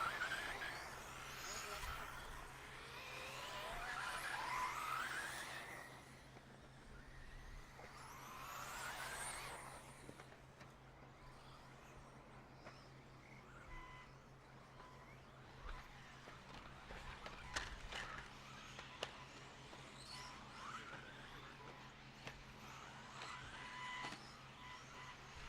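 Small electric off-road 4WD racing cars whine around a dirt track on a warm-up lap at a state titles meeting, rising and falling as they pass at a distance over a steady hum, with a voice on a loudspeaker.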